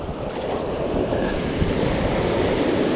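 Ocean surf breaking on a beach shore where pompano are fished, a continuous loud wash of waves with wind buffeting the microphone, no voices.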